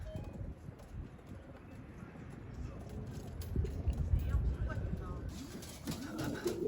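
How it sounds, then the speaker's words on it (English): A racing pigeon arrives back at its home loft after a 150-mile old bird race, with soft cooing amid steady rustling and background noise while a person talks nearby. "That's my club champion bird. He just came back."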